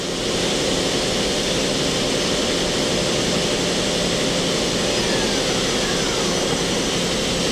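A Mori Seiki MT2000SZ multi-axis CNC milling and turning center with its spindle spinning at around 3000 RPM, giving a loud, steady, unbroken mechanical roar with no talking.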